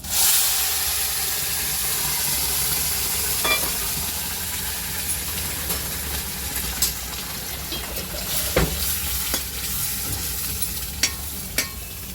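Split lentils tipped into a hot oiled pan with red chilli powder, Kashmiri chilli and turmeric, sizzling steadily while a spoon scrapes and stirs, with sharp clicks of the utensil against the pan over a constant frying hiss.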